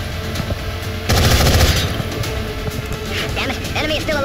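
A gunshot from the video game XCOM: Enemy Unknown lands as a loud burst of rapid automatic fire around the one-second mark, followed by rattling game effects and ambience with a voice talking underneath.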